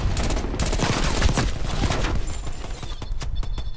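Dense automatic gunfire in Black Ops Cold War, with loud rapid shots rattling close by in a sustained fusillade that thins into scattered bursts toward the end.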